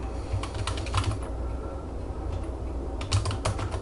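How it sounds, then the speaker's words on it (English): Someone types on a computer keyboard with quick, irregular clusters of close keystrokes over steady low background hum, no talking. "so I'm just typing some stuff"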